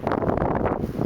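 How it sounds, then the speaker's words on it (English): Wind gusting across Gibson Lake in Algonquin Park during a solo canoe trip, a steady, loud, broadband rush buffeting the microphone with no pauses. "If you can hear it, but it's a bit windy."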